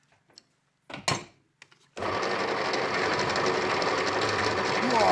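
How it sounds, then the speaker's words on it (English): A fairly big metal lathe runs with a steady, continuous machining drone that starts abruptly after a few brief knocks and a short burst of sound, holding a constant level to the end. "Looks like a pretty big lathe."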